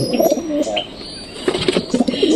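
Pigeons coo in soft, throaty bursts close by, a few rolling calls separated by brief pauses.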